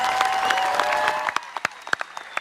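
An audience at a high school graduation ceremony gives loud, dense applause that thins out into a few scattered, separate claps near the end.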